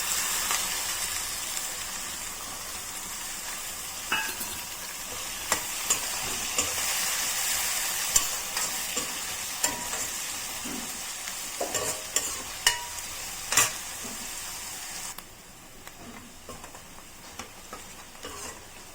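Soaked chana dal and sliced onion fry in a pan for a gongura curry, a steady hiss with frequent ticks and scrapes of stirring. The sizzle drops noticeably quieter near the end, and no one speaks.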